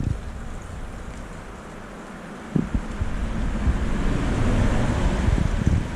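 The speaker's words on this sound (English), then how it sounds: "Some water flowing down." Water flows down a stream beneath a trail bridge in a steady rushing wash that grows louder partway through, with occasional bumps of wind or handling noise.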